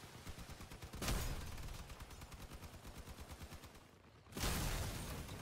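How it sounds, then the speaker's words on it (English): A combat vehicle in the video game Crossout fires its cannon: two heavy, loud blasts with a rapid, rhythmic stream of fire between them, and no talk. "Okay, that's a cannon."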